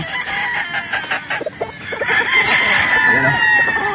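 A gamefowl broodstock rooster crows loudly and close, one long drawn-out call, amid clucking fowl while someone talks.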